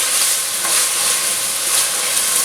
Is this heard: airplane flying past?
no